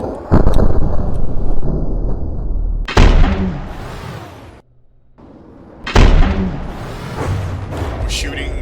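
A PAC cannon in From The Depths fires 3-second-charge EMP shots at small targets, two heavy booming blasts with long rumbling tails separated by a brief lull, loud and close, with someone talking.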